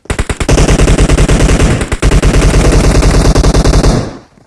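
Automatic gunfire in the mobile game PUBG Mobile: loud, rapid, sustained bursts of machine-gun shots with a brief pause partway through, close and dominant, no voices.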